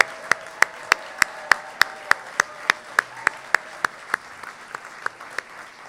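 A few people clap slowly and distinctly for standing graduates at a spring graduation ceremony, about twenty crisp, evenly spaced claps that soften toward the end, heard close with faint room noise.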